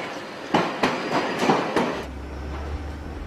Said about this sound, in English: Karen Jordan is driving a Northern Line train for the first time in 3 months.